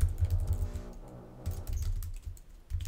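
Rapid clatter of computer keyboard keys while typing HTML code, close and steady in irregular bursts with brief pauses, no voices.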